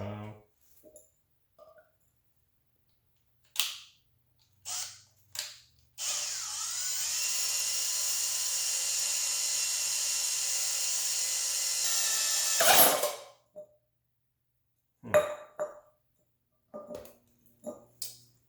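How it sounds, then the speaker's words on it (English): A power drill whines steadily for several seconds, bracketed by scattered clicks and handling knocks before and after. "you'll just get a drill bit and you'll start drilling some of this"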